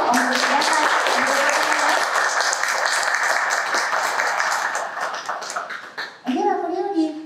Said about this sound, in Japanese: 受賞者の皆様に、今一度盛大な拍手をお送りください